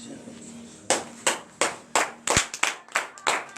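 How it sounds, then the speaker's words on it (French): A congregation at a morning prayer service in Benin claps in a steady rhythm, about ten sharp, distinct hand claps accelerating slightly, fairly close and without speech. "Veuillez vous lever et donner des vives acclamations à notre Seigneur Jésus"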